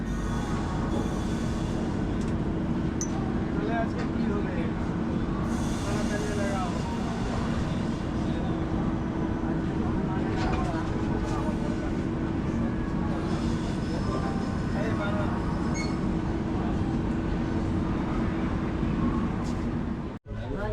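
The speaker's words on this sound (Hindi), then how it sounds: "हम लोगों का ट्रेन फाइनली डिपार्चर हुआ" Shatabdi Express train running from Howrah to New Jalpaiguri just after departure, a steady loud rumble of wheels and carriage noise throughout with faint voices in the background, cutting off abruptly at the very end.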